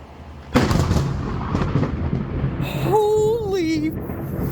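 Thunder from a close lightning strike cracks suddenly and loudly, then rumbles on, while a voice cries out over it near the end.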